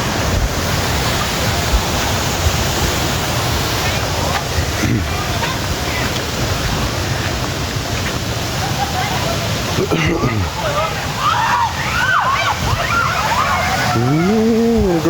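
Waterfall at a cat farm, a loud steady rush of falling water filling the whole clip, with people talking over it.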